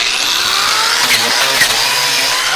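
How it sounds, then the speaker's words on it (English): An electric grinder removing rust from a rusted metal roof seam, a loud continuous high-pitched whine and grinding rasp held steady and close throughout, with no speech. "let me show you how the electric grinder works"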